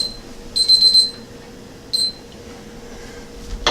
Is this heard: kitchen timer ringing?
yes